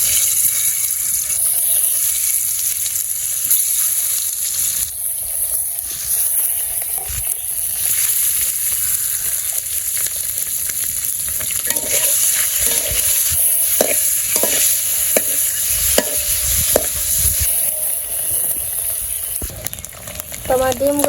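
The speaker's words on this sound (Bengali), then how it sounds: "আমার ডিমগুলো ভাজা হয়ে গেছে" Eggs coated in turmeric and chili fry in hot oil in a wok, giving a loud, continuous sizzle with stirring and scraping in the later part and occasional clinks near the end.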